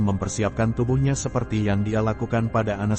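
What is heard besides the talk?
No distinct noise like a dog, phone or traffic.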